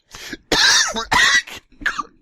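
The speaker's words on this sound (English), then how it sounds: "Coughing." Several harsh, close coughs in quick bursts, one after another, with brief gaps between them.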